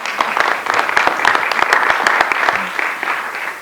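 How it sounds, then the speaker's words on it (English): A town hall audience claps steadily and fairly loudly, a dense crowd applause that holds level and then tapers slightly at the end. "let's give her a round of applause"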